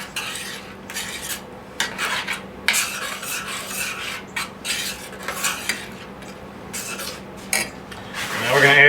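A utensil stirring a chilaquiles mixture in a pan, with repeated scraping and clinking strokes in irregular bursts over a faint sizzle, growing louder at the end.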